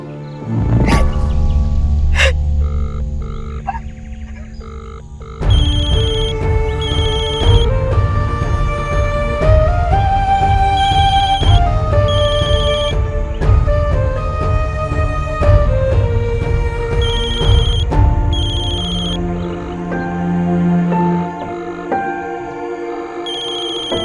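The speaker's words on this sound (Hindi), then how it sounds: "कौन सा दूसरा फोन बज रहा है?" A phone ringtone plays continuously as a melodic electronic tune, loud and close, with no talking over it.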